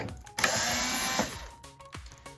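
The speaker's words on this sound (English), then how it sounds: "we do need to take out a few screws here" A powered screwdriver backs screws out of a Sam4s SPS-300/ER-900 cash register communication board: one loud, close whirring burst lasting about a second, followed by faint clicks and handling.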